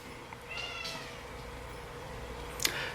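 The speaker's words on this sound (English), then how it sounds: "My cat is still in the other room raising hell." A cat meows from another room, drawn-out muffled cries repeating a few times over a quiet indoor background, with a sharper cry near the end.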